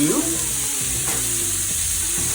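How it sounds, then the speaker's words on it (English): Chopped sweet onion sizzles in hot coconut oil, a constant close, fairly loud frying hiss with faint low background tones. "Ooh, that sizzle is real."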